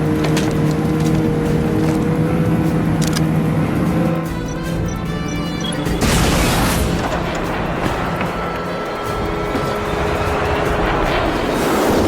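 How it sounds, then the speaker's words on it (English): A helicopter approaches in the James Bond: Blood Stone video game, a loud, steady rotor-and-engine roar that swells sharply about halfway through and holds as a dense, continuous drone with no talk over it. "Helicopter inbound."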